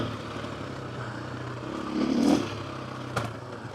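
Motorcycle fitted with an aftermarket exhaust riding the Starcke Track dirt trail, a steady engine drone that swells briefly into a throttle rise with a rattle, heard close without talk.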